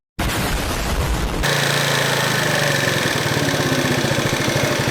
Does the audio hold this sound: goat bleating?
no